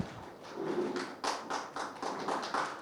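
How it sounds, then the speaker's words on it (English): Applause for an award presentation at a Global Leaders Award ceremony in Singapore, scattered hand claps rising into uneven bursts of clapping from a crowd, moderately close and with no speech over it. "please give a big round of applause to His Excellency Ambassador K. Keshapani"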